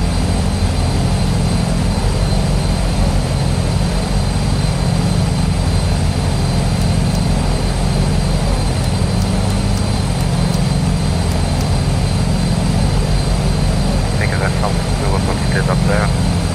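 Twin propeller-turbine engines of a DHC-6 Twin Otter in Microsoft Flight Simulator, flying near Paro: a loud, steady engine drone with a constant tonal whine, continuous throughout, with brief clicks near the end.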